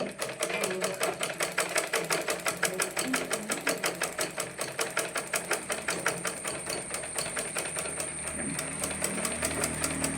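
A sewing machine stitches a sleeve onto a sleeveless readymade top with a loud, rapid, steady needle rhythm that runs without a break for about ten seconds, close up and with no voices.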